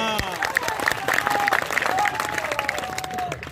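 Audience clapping at a religious gathering at an ashram, steady applause running throughout with a voice speaking over it.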